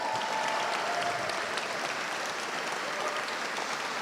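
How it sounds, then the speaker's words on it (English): A large audience claps steadily in a dense, sustained burst of applause that holds at a constant level. "Give her a round of applause."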